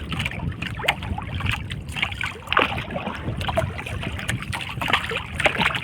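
A boat is paddled across water: soft rhythmic strokes and small splashes sound near at hand, repeating steadily over a low watery wash with some wind.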